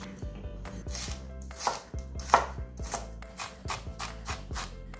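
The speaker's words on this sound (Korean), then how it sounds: "토스트 안에 들어갈 채소입니다. 잘게 잘라줄게요." A knife finely chops onion and green bell pepper for toast, making quick, rhythmic taps on a cutting board with no talking.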